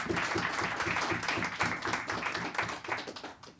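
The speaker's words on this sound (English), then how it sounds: "Can we give them a round of applause?" An audience applauds a panel at the close of a live-streamed G4 Alliance discussion, a dense, steady patter of many hands clapping at moderate volume for several seconds, tapering slightly at the end.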